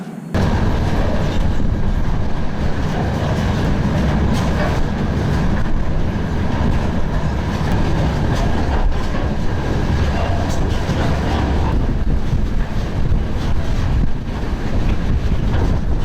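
A freight train moves fast across Russia, heard from on board as a loud, continuous roar of rumble and rail clatter mixed with heavy wind buffeting the microphone, steady throughout.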